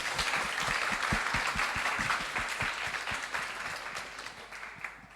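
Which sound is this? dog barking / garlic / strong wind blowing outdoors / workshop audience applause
workshop audience applause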